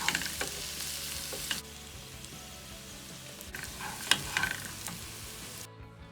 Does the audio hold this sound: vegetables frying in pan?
yes